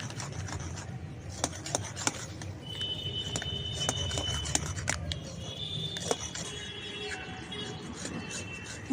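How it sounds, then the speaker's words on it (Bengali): A spatula stirs thickening milk malai with powdered milk in a pan, making soft scraping and rubbing strokes with scattered clinks over a low background hum, fairly quiet and with no talking. "আর এইভাবে খুন্তি নাড়তে থাকবো যাতে ডালা ভাব না হয়ে যায়"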